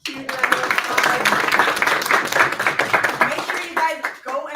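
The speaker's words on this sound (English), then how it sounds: "Huge round of applause." A crowd applauds and cheers a third-place winner at a gaming pitch event, with dense, sustained clapping close by that tapers off at the end.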